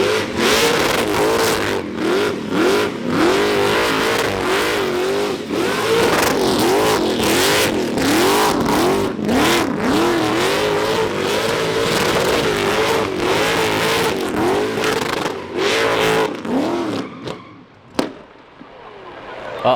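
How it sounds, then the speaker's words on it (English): Several cars doing burnouts on a race track at a GT-R festival in Australia, with loud sustained engine revving and roaring that swells and falls for most of the stretch, then drops off near the end. "they actually brought out a couple burnout cars just to make a bunch of tire smoke"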